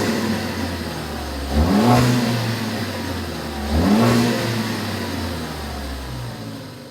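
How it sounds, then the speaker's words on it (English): A 2013-2018 Ford Focus ST with its stock downpipe and Borla catback exhaust idles with a deep, steady drone. It gives two short, sharp revs about two seconds apart, each rising and falling quickly back to idle. "we'll fire it up with the stock downpipe with our Borla catback"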